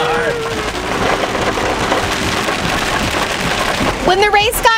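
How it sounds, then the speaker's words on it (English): Heavy rain pours down steadily on a car after a NASCAR race, a loud, dense drumming hiss on the roof close by, with voices breaking in near the end. "When the race got over, it started pouring rain"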